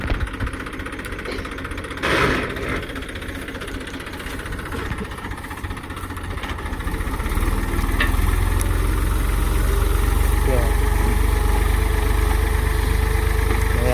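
A tractor engine runs during a groundnut harvest, a mid-pitched chugging idle that swells louder and rougher halfway through and keeps drumming steadily, with faint field noise and no speech.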